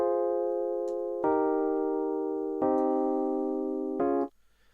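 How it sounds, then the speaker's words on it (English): A Scarby Mark 1 electric piano in Kontakt plays four sustained chords one after another, each held for over a second with a soft attack, clean and isolated, with the last chord cut short. "So now Contact and the Scarby Mark 1 sounds like this."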